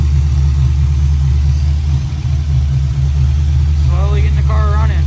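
A car engine fitted with a Killshot EFI throttle-body fuel injection system idles with a loud, steady low rumble, and a voice speaks briefly near the end.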